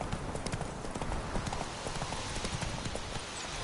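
Roach the horse galloping in The Witcher III, a steady rapid clip-clop of hooves on the ground, continuous and even throughout at moderate volume.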